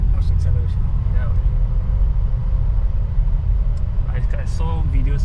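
Audi RS e-tron GT electric car accelerating on the Sepang track, a steady loud low rumble of road and drive noise throughout, with voices talking over it.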